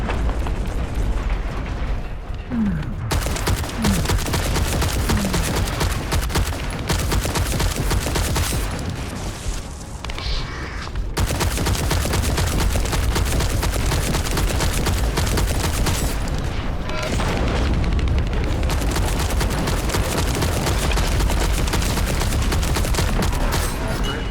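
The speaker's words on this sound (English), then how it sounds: "gonna use my cannon." Heavy combat in The First Descendant fills the whole stretch with dense, continuous booming cannon blasts and rapid bursts of fire, loud and unbroken, with no talking.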